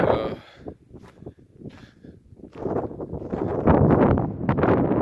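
Wind gusting across a high mountain slope near Pointe du Bouchet by a ski piste, starting as softer buffeting and building into a steady, loud roar against the microphone for the last half.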